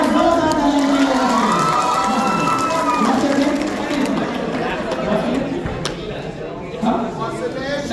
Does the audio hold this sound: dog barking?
no